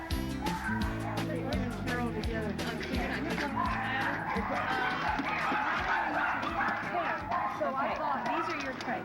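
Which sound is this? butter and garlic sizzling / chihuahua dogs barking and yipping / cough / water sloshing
chihuahua dogs barking and yipping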